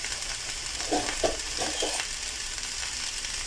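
Hot dogs frying in a pan at home, a steady close sizzle of hot oil with a few soft scraping and turning sounds near the start, no speech.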